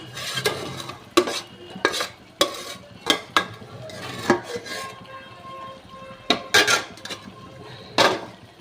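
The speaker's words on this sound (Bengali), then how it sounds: "আমি বাঁধাকপিটাকে দিয়ে দিয়েছি এবার এটা একটু কষানো হবে" Cabbage with rohu fish head being sautéed in a pan, repeated sharp spoon scrapes and knocks against the pan in uneven bursts over a faint sizzle, close and with no speech.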